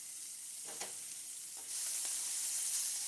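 Broccoli sizzles in a pan with a soft steady hiss that grows louder partway through, with a few light stirring clicks, close up and with no talking.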